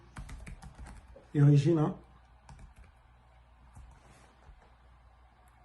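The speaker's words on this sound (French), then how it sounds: "On vient tout simplement là, on tape université" Rapid clicking keystrokes on a computer keyboard, entering a search, close and steady, with a short spoken phrase interrupting near the start.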